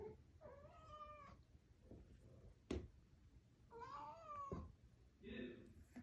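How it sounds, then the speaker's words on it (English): A distressed cat meows repeatedly in drawn-out, wavering cries, three or four calls spaced across a few seconds, fairly close and alone, with a sharp knock between them. "We have some distressed cat."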